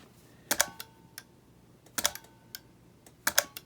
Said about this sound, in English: You're going to hear a little relay clicking.